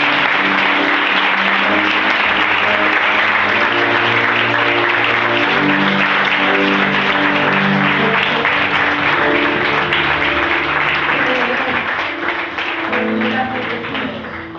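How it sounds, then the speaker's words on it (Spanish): Loud, sustained applause from a church congregation fills the space for about fifteen seconds, with musical tones running underneath and the clapping thinning slightly near the end. "Un fuerte aplauso para ti."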